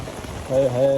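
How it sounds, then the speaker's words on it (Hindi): Heavy rain pours with a steady wash of hiss during a thunderstorm in China, and a voice talks over it through the second half. "बहुत तेज़ बारिश है यार, सब कुछ भीग गया है।"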